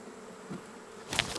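Honeybees buzzing around hot beehives, a steady faint hum that swells into a louder, closer burst near the end.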